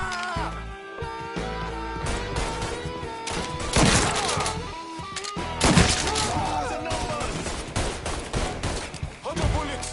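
Rapid bursts of gunfire from a Mafia 3 shootout, with overlapping volleys and heavy thuds building to louder clusters, steady and close throughout.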